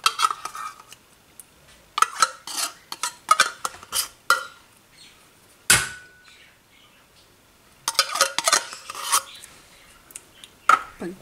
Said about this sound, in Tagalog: Mix natin na maigi.